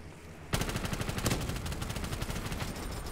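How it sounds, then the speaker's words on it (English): Nail gun firing in a Black Ops 3 zombies custom map, a sudden sustained stream of rapid mechanical shots in a fast even rhythm, loud and continuous with no talk. "The nail gun's crazy."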